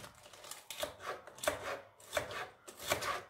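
A knife chopping food on a board, about five or six crisp rhythmic cuts in close succession with short gaps, close and fairly loud with no talk over them.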